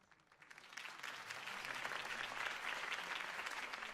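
A crowd in the Batman Telltale Series video game applauds after Harvey Dent's campaign speech, clapping swelling from sparse to a dense, steady ovation that holds at moderate distance.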